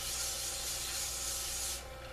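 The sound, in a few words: hand sanding a pen blank with micro mesh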